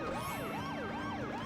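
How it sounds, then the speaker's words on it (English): A police car siren in The Simpsons Hit & Run video game, a continuous wailing tone sweeping up and down in a steady cycle, loud and even over faint engine noise. "I've got my sirens on."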